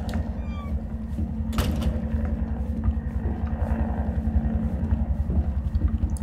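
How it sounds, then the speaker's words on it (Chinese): A helicopter in the Resident Evil 2 remake game, a steady, loud, low rhythmic rotor thumping that continues throughout, with one brief sharp burst early on. "听到直升机的声音啊"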